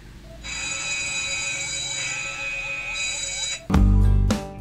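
An old phone repurposed as a remote camera rings at maximum volume, a loud repeating electronic alarm with steady high tones and rapid chirps that continues for several seconds and then cuts off, followed by a couple of heavy handling thumps.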